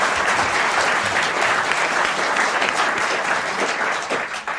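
A TV studio audience applauds on a 1996 French talk show, a dense, steady roar of many hands clapping close by that holds loud throughout and thins slightly near the end.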